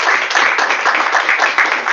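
Audience applause for speakers after a public talk, a dense steady patter of many hands clapping, fairly loud and close, with no pauses over the short stretch.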